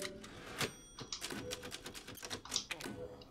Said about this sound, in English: Ah, typewriter.